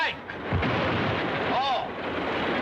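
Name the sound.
dynamite explosion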